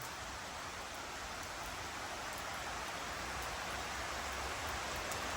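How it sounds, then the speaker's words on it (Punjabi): Steady rain falls in a Punjabi village during a monsoon shower, a soft, even hiss of drops spread evenly across the whole span, faint and unbroken, with no voices. "ਜਿੱਦਾਂ ਹੁਣ ਬਰਸਾਤ ਪਈ ਆ"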